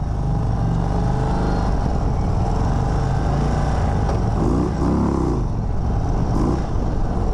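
A 2023 Indian Sport Chief motorcycle engine rumbles loudly up close, its pitch rising and falling as it revs under a constant roar.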